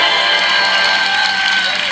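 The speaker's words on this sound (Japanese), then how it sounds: "100点というのが出て、こういう歓声も出てくるわけですね" A short burst of crowd cheering and applause plays as a reward sound in a kanji-writing practice app on an iPad, bright and continuous for two seconds.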